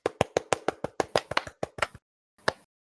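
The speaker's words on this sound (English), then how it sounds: "Are you slow clapping yourself right now?" One person clapping, a quick run of about a dozen sharp, close claps followed by a pause and a single final clap.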